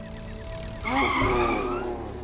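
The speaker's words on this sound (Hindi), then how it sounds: "ब्रेक क्यों लगा इतनी जोर से?" A car brakes hard in a TV drama scene, its tires squealing in a loud, wavering skid that swells suddenly and then fades over an engine hum.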